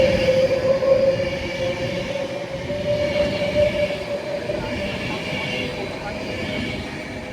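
A class 217 train pulls away from Nuneaton station on the West Coast Main Line, a steady rumbling engine with a sustained tonal whine and rolling wheel noise, close and fairly loud, slowly fading.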